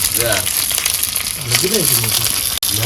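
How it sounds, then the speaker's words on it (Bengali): Bhetki fish frying in an oiled wok: a loud, constant sizzling hiss close up, with people talking over it throughout. "এবার ভাজা বসাই দেবো"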